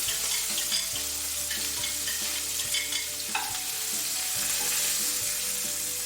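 Shallots and garlic sauté in a hot pan for a Chateaubriand sauce, a steady close sizzle with light stirring clicks and scrapes throughout, no talking.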